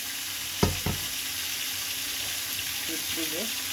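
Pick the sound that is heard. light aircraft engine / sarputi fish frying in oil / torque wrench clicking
sarputi fish frying in oil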